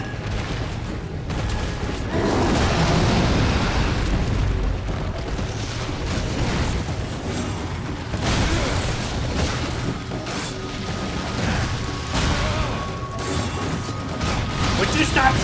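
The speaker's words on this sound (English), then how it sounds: "It's a bomb!" A bomb going off in the Darksiders 2 action game: heavy booming blasts and rumbling mechanical clatter, loud and continuous, mixed with combat noise and a voice speaking over it.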